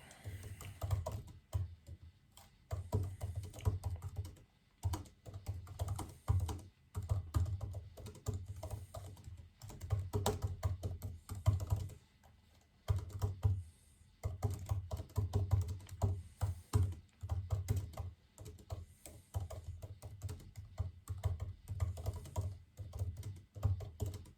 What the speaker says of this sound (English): I just think and type too fast for my fingers and things